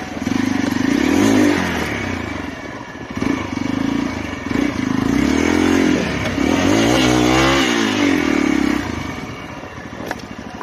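A Royal Enfield Hunter motorcycle revs hard while off-roading, its engine repeatedly rising and falling in loud, close surges with some mechanical clatter. The bike is heard alone.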